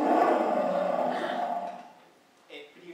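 A lion's roar played as a sound example: one loud, sustained, rough low roar lasting about two seconds, fading out, then a brief faint sound.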